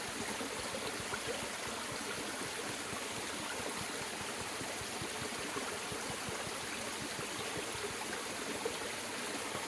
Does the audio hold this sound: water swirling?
yes